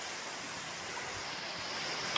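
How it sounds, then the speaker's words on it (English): Small waterfall along the Appalachian Trail, a steady, even rush of flowing water filling the scene, with no pauses and a faint click near the end. "a little waterfall action for you."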